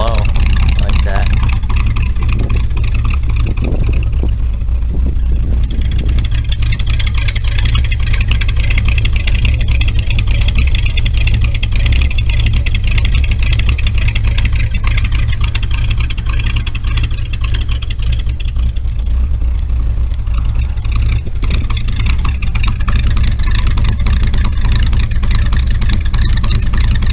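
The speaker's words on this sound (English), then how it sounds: "once it warms up, it kicks right up to like 700 RPMs idling" A 1968 Cadillac engine idles low after a cold start, a loud, steady, close rumble with a constant throb and no change in pace across the whole stretch.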